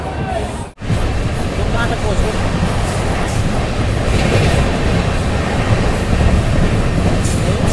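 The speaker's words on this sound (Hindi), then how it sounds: "बापू धाम मोतीहारी से अपनी ये मिथिला एक्सप्रेस रवाना हो चुकी है।" Inside a general coach of the Mithila Express as the train runs, a loud, steady rumble of wheels on rail with faint clickety-clack fills the whole stretch, broken only by a brief dip near the start.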